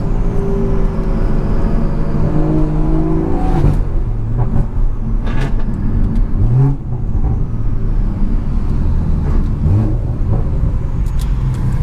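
Racing cars heard from inside a vehicle with the window down: a big-turbo BMW 340i and a fully built Toyota Supra give a loud, continuous engine roar with rising and falling revs and gear changes under steady wind noise.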